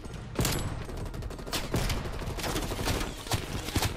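AUG assault rifle fire in Call of Duty on the Nuketown map: a run of sharp, rapid shots in uneven bursts, loud and close, over a steady bed of game noise.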